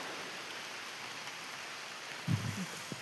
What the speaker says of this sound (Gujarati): જોઈ લ્યો વરસાદ ફૂલ ચાલુ થઈ ગયો ટાણે.